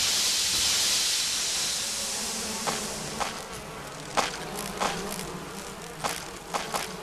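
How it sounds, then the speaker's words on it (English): Giant bees in the Resident Evil remake hover around a giant beehive, a hissy, airy buzzing drone with repeated short sharp buzzing bursts as they swoop close, fairly loud with no talking. "See a giant beehive. And giant bees."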